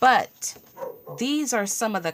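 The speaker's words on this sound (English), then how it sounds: "Excuse my dogs." Small dogs barking and yipping indoors in a few short bursts, with someone talking over and between the barks.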